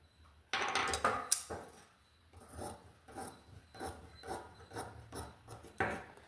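Scissors cut through blouse fabric in a tailoring session, producing a steady run of crisp, rasping snips about every half second. The snips are close and moderately quiet, and no one talks.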